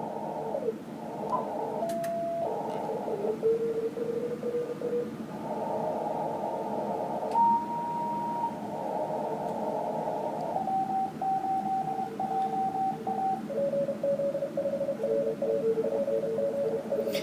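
An amateur radio signal from a Brazilian PZ station comes through a receiver as strong, steady tones that shift pitch in sections, like keyed data or voice-modulated carrier, over constant band hiss and faint static crackles.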